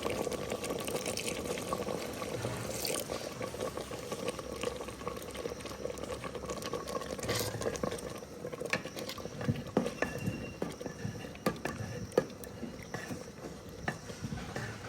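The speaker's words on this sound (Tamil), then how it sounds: "நாங்கள் தேங்காய் பால் வந்து குளிக்க எடுத்து வச்சுருக்குறேன் அதை வந்து விட்டு கொள்ளுவோம்" Coconut milk poured into a pot of sweet pongal on the stove for a Skanda Sashti fasting meal, a steady bubbling, gurgling wash of liquid running close by for the whole stretch, with no talking.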